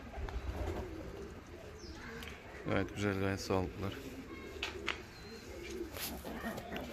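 Young fancy show pigeons, a male and a female, coo softly in their loft, several low rounded coos rising in the middle while someone talks over them throughout.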